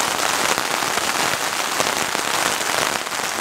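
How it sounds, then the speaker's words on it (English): Steady rain drums on a backpacking tent during a passing storm, a dense continuous patter of close drops with no voices, holding level throughout. "It just started to rain"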